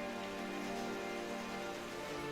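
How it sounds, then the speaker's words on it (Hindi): Steady, dense downpour of heavy rain drumming on surfaces with a faint hum, continuous and even, used as a night-storm sound effect in a forest story; no voices. "अंधेरी रात को घने जंगल में कड़कड़ाती बिजली और मूसलाधार बारिश के बीच"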